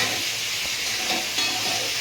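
Steady, loud sizzling of fish frying in hot oil, a continuous crackling hiss with no voices.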